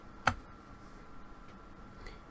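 A single sharp key press on a computer keyboard, one crisp click near the start followed by a faint quieter tap, otherwise near silence.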